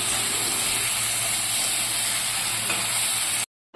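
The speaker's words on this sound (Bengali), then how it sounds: "সজনে ডাঁটা দিয়ে এবার ভালো করে আরেকটু ভেজে নেব।" Drumsticks, ridge gourd and potato frying in a pan, a steady close hissing sizzle that holds evenly for several seconds before cutting off abruptly.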